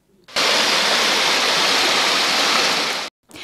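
Flood water rushing into the basements of multistorey buildings in Balkhash, a loud, close, unbroken roar of surging water that starts abruptly and cuts off after about three seconds.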